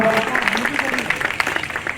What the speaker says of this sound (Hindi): जोरदार तालियों से स्वागत कराओ रिचपाल सिंह जी गुरुदास रो